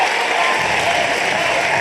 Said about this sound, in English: The chuckles from the crowd. And the roars.